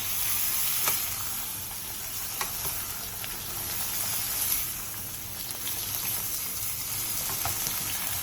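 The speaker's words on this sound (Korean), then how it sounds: "숙주 2줌을 넣고 숙주에 숨이 살짝 가라앉을 때까지 빠르게 볶아주세요." Two handfuls of bean sprouts are stir-fried quickly in a hot pan, giving a steady close sizzle with occasional scraping stir strokes and small clicks throughout, no voices.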